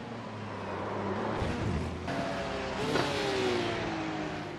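Race car engines in an iRacing Spa 24 Hours endurance race in the wet, a continuous revving roar with rising and falling pitch as cars accelerate and overtake, loud and close, shifting gears midway.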